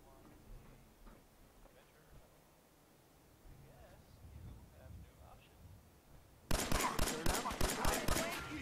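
Pistol fire in Fallout 4 survival mode, a short loud run of rapid sharp shots that breaks in near the end after a long stretch of quiet background and soft talk.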